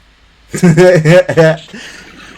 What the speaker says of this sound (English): Chicken noise.